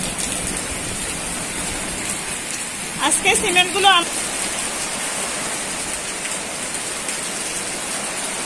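A heavy downpour during a southerly storm hisses steadily and loudly near stored cement sacks in a village, with someone briefly speaking over the rain midway.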